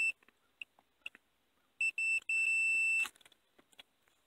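A multimeter set to continuity beeps while testing a ground wire on a Ford Explorer with a shifter stuck in park. A few short chirps lead into a sustained high tone lasting over a second, clear against light handling noise.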